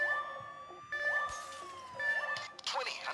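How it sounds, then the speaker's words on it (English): Police sirens in the heist video game Payday 2, several wailing and yelping tones overlapping in repeated bursts, joined by a brief crash-like clatter near the end. "Get on the sirens, I hear them."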